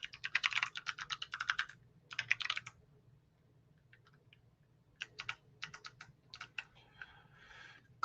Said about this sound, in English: let me move my microphone in front of my keyboard for you there